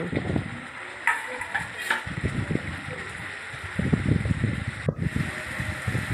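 Mutton kalia sizzling in a pan while being stirred, with scraping stir strokes and bursts of frying crackle, moderately close, with some background clatter.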